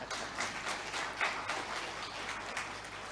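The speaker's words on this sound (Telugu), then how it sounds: "మనం కరెక్ట్ చెప్తే క్లాప్స్ కొట్టండి సార్ ఒకసారి" A workshop audience at a Sanathana Dharma awareness session claps together, a steady, faint patter of many hands lasting a few seconds with no voices over it.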